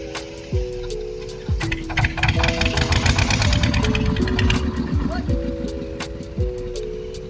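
A boat engine runs steadily beside the Brahmaputra near a riverside temple ghat, a continuous low motor drone with a ticking rhythm, while voices and background chatter carry on over it.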